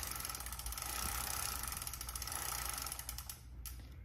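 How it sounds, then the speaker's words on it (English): Wrench tightening a pedal into the crank of a Super73 RX electric bicycle, a steady close mechanical clicking and grinding that runs for several seconds, easing slightly near the end. "once it's in there enough, take your wrench and keep going. You'll feel it tighten."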